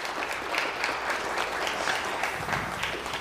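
Steady crowd applause fills a 50th wedding anniversary vow renewal ceremony, a dense, even patter of many hands clapping continuously at moderate volume without pause.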